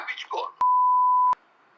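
A short burst of voices, then one steady electronic phone-call disconnect beep lasting under a second, followed by faint background noise.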